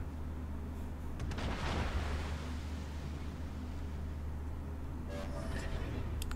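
Battleship guns fire in World of Warships, with a single heavy boom and rumbling roll followed by faint distant shots over a constant low engine and sea drone.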